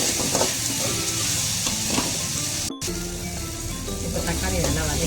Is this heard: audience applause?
no